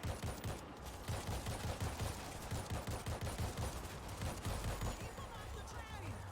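Gunfire in the State of Decay video game, dense continuous bursts of rapid shots forming a loud sustained fusillade, with faint talk underneath.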